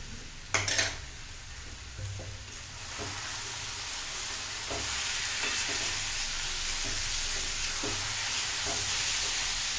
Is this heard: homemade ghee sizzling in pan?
yes